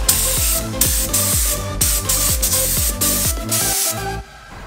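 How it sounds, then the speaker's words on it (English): Compressed air blasts dust off a freshly sanded car wheel, a close, loud hissing spray in short repeated bursts over background music, stopping near the end. "grab whatever source of air you have and just blow away any dust."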